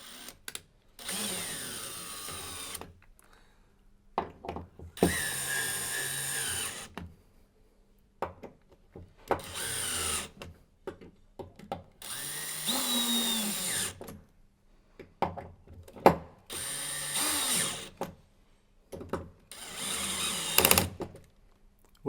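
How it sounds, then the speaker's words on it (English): Cordless drill on a high torque setting tightening the bolts of an Aladdin EasyFit isolator valve body, five separate whirring bursts that rise in pitch, each followed by quiet between bolts. "We'll then switch to torque on the drill, the highest torque level on your drill"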